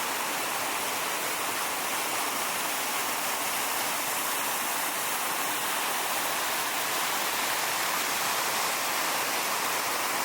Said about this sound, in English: The creek drops 70 feet in 4 distinct waterfalls.